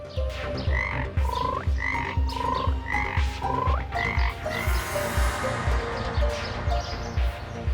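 Frogs croak from inside a well in a regular repeating rhythm, loud and close, with a higher chirping call layered over the steady croaks.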